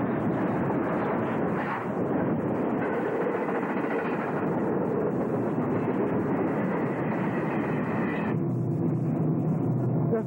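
A freight train carrying two cabooses rumbles past on Ontario trackside, a continuous loud roar of rolling wagons with wheel noise and wind buffeting, shifting in tone toward the end as different cars go by.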